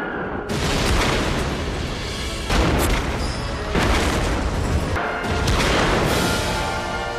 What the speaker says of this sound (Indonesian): Danilov menyerahkan senapan itu kepada Vasily dan mulai menembak.